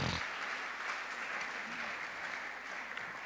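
Steady, sustained applause from a church congregation in a French-language sermon, a dense even roar of many hands clapping throughout, with a faint voice underneath.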